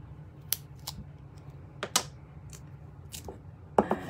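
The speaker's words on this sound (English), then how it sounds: "open it with your scissors" Scissors snip open the packaging of a small ink pad from a card-making kit, giving a few short, sharp, close clicks and cuts spaced irregularly over a few seconds against a quiet background.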